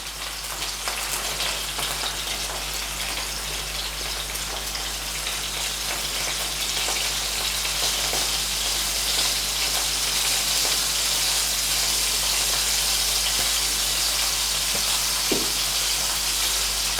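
Salmon fillet frying in a pan, a steady, even sizzle with fine crackle running unbroken throughout, close and fairly loud, with no talking.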